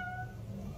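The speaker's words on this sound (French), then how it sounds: "Miaou. Le chat." A cat meows once, a short tonal cry heard close and fairly clear over a low background rumble, with no one speaking.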